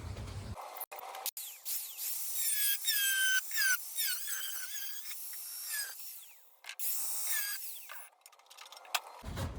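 Angle grinder cutting rusty sheet metal out of a VK Commodore spare wheel well, a loud continuous high-pitched whine and scream with shifting pitch, interrupted by brief pauses and restarts.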